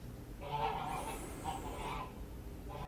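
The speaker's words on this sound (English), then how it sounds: "Oh, them damn geese." Several geese honk in short, nasal bursts at moderate distance, a flock calling in quick succession for a few seconds in an otherwise quiet outdoor setting near a woodworking bench.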